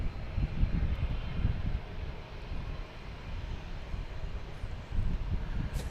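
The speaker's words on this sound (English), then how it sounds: "we got the JetBlue Retro getting ready to head out of here as well" Engines of a JetBlue retro-livery airliner at Boston Logan Airport, a steady low rumble that rises and falls slightly, heard from a moderate distance.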